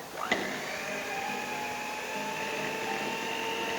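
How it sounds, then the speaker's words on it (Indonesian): Electric hand mixer whirring steadily as eggs are beaten one at a time into warm choux pastry dough for choux au craquelin, a sharp start then a continuous even motor drone with no talk. "Siapkan mixer. Masukkan egg-nya satu persatu."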